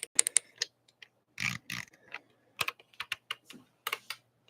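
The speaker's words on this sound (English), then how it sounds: "Click these buttons." Buttons on a VPG Sim Mustang GT3 racing wheel with clutches and paddle shifters, clicked in sharp close bursts, some single and some in quick clusters, separated by short silences.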